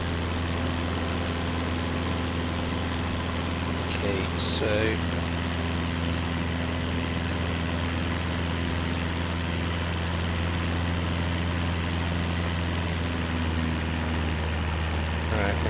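Steady aircraft engine drone from a small plane in MS Flight Simulator 2024, flying over countryside, a constant low hum running throughout with someone talking briefly over it.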